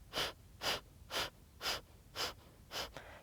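A yoga practitioner breathes out in six evenly spaced, forceful exhales during a summer flow, each a short breathy rush about half a second apart, close and clear with no talking.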